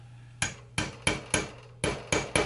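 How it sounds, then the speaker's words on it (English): Seven light taps with a hammer-like tool on a guitar nut, a crisp metallic-wooden knock each time, evenly spaced but uneven in gap, close up and alone with a faint low hum beneath. "I just sort of lightly tap on it"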